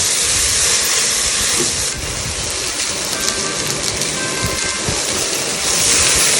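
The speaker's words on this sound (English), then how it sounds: "We saute this for 1 or 2 minutes till the tomatoes become soft." Tomatoes and chopped green chilies sauteing in a pan for palak makhana khichdi, a loud, constant hissing sizzle close by, with faint stirring taps and no talk.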